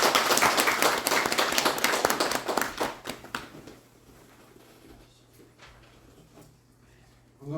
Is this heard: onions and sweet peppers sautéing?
no